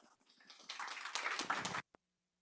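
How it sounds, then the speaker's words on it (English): A short burst of applause from a crowd, building for about a second before stopping abruptly, with a brief sharp knock afterward. "So let's welcome them with a round of applause."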